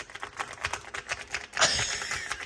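A creamy-sounding mechanical keyboard is typed on in a quick, uneven run of close, crisp key clacks, with a denser flurry of strokes partway through.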